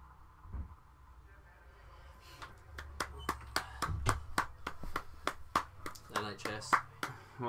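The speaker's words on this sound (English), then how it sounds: "What, the NHS clap?" People clapping in the NHS clap, a steady run of sharp, fairly close hand claps building in pace over low background noise, with a voice talking briefly before the claps start.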